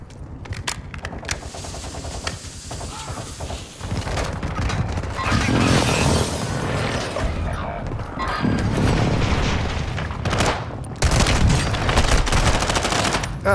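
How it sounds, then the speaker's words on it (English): Explosive booms and rolling blasts of a hostile airstrike in Call of Duty Warzone, dense and loud, with bursts of gunfire layered over a continuous roar. "Hostile airstrike incoming."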